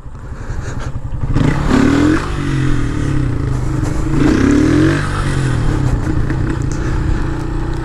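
A motorcycle engine revs hard in two rising bursts over a steady idle, loud and close, with each rev climbing and then dropping back.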